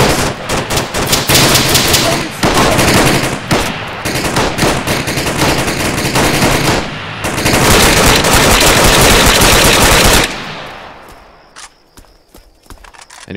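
Sustained bursts of automatic weapon fire in Arma III rattle loudly for about ten seconds, broken by a brief pause, then cut off and leave a fading echo and faint ambient tail.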